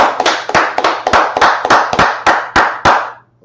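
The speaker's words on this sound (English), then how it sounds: "Let's clap it up." A group claps in unison at the opening of a religious law class, giving about ten loud, evenly spaced claps in a brisk rhythm that stops cleanly.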